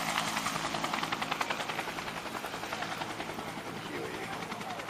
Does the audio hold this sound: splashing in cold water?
no